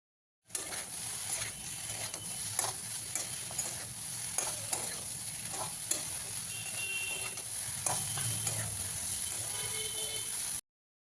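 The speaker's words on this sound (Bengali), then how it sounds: "এভাবেই এই শুক্তোর মশলার সাথে সবজিগুলোকে এখন খুব ভালো করে কষিয়ে নিতে হবে" Vegetables for Bengali shukto are sautéed with a spice paste in a pan: a constant soft sizzle with repeated scraping, stirring knocks of a spatula, close and steady throughout.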